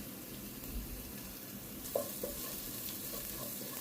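Asafoetida, turmeric, coriander and mild chilli powder sautéing in a pan for rasam, a faint, low sizzle with a couple of soft scraping stirs partway through.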